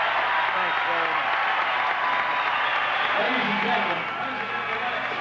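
A large crowd applauds President-elect Ronald Reagan and the new First Lady at the Century Plaza Hotel in Los Angeles on 1980 election night, with loud, continuous clapping and cheering throughout.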